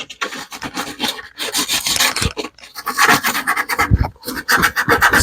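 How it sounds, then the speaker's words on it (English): A part from an LG refrigerator being sanded by hand, close and loud, with uneven rasping strokes in a rough back-and-forth rhythm and brief pauses between passes. "sand it a bit"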